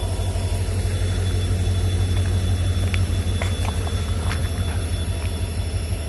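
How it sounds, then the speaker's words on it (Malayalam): Continuous low rumble of an Indian railway locomotive running into the dead-end Nilambur Road station, with scattered faint metallic clicks and squeaks over the steady drone. "ആ കാണുന്നതാണ് നമ്മുടെ വണ്ടിയുടെ ലോക്കോമോട്ടീവ് വരുന്നത്"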